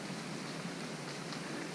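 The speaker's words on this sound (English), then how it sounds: "sitting it out in the dark, in the pouring rain" Steady heavy rain pours down at night by a fishing lake, a constant, even hiss with no distinct drops or breaks, fairly soft and with no voices.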